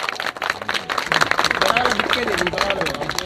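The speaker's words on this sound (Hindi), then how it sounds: "जोरदार तालियां सर के लिए" An audience claps and applauds for a guest, the actor who played Shakuni Mama in the Shri Krishna serial, at a network marketing event in Prayagraj; dense, steady clapping fills the moment, with a voice over it.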